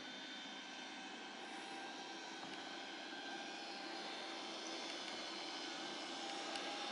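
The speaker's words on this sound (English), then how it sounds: "What do you think of the vacuum?" A household vacuum cleaner running nearby, a steady faint whine and drone with thin tonal lines, unchanging throughout with no talk.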